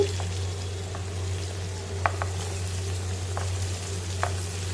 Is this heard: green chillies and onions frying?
yes